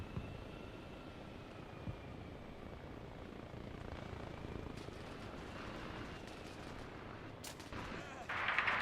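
Distant gunfire crackles in Arma Reforger, faint shots scattered under a steady helicopter rotor drone, with a louder burst near the end.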